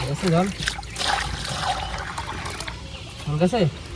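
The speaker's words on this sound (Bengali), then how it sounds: "জল দিচ্ছি, সমস্যা নেই, জল দিচ্ছি" Water poured and trickling with light splashes beside a new village pond on a rainy day, a soft continuous stream heard under someone talking near the start and end.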